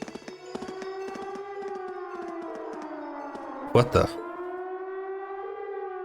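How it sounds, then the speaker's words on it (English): A civil defense siren wailing from a fort in the video game Trails of Cold Steel, a long rising and falling tone that sustains through the whole stretch, with brief voices and game sounds over it. "It's a siren. It seems to be coming from the fort."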